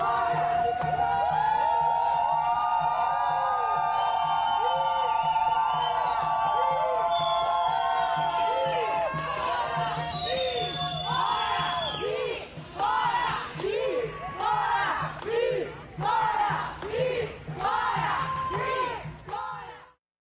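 A crowd in Foz do Iguaçu, Paraná, jeers and shouts at senator Sergio Moro during a political event, sustained loud voices at first, then rhythmic chanted bursts rising and falling.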